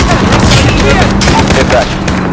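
Heavy gunfire in Call of Duty Modern Warfare, a loud continuous barrage of rapid shots and booming impacts with voices mixed in over the clatter.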